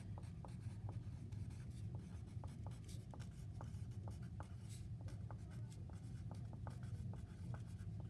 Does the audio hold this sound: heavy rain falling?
no